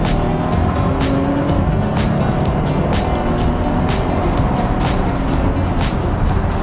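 A Ford Mustang's engine roars steadily and loudly from inside the moving car, a dense, constant drone with no breaks.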